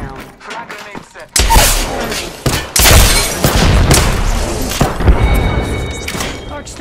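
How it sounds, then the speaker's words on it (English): A frag grenade explodes in the Apex Legends video game with a loud booming blast, followed by sustained rapid gunfire and further thumps, dense and close throughout. "Frag grenade set."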